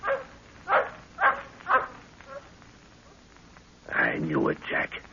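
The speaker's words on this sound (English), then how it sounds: "That dog barking." A dog barks in an old-time radio drama set in Africa: four sharp, evenly spaced barks up close, then a longer, louder burst of barking and yelping after a short pause.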